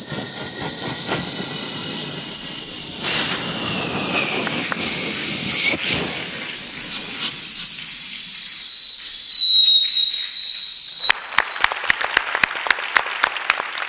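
A performer vocally imitates a train pulling into a railway platform: a long squealing whistle and hissing roar that slowly falls and settles, followed by rhythmic clacking bursts, with applause mixed in.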